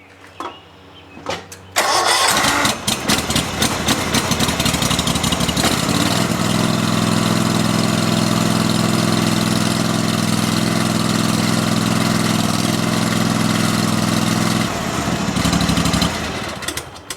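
A Kawasaki FH580V small engine, just serviced for valve clearance, cranks briefly and catches, then settles into a loud, steady idle with a low vibrating drone before revving slightly near the end and shutting down.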